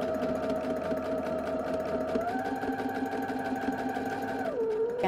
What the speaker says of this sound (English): fold it again to match that finished edge to the lining finished edge and sew that